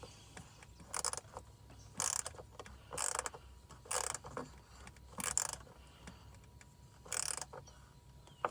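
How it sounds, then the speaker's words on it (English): Bit ratchet with a T20 bit tightening a screw on a Ram ProMaster van radiator fan resistor, giving quiet rapid clicking bursts roughly once per second, repeated about eight times with brief pauses in between. "now I'm just gonna go in there with the bit ratchet with the T20 and finish this off"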